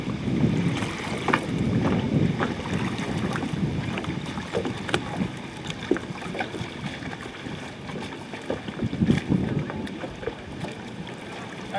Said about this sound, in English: From here, you can keep paddling in this position